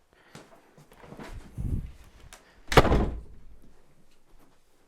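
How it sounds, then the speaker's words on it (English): A door shuts with a solid thud in a home, preceded by faint footsteps and shuffling, then a lingering low rumble as the sound fades. "Close the door."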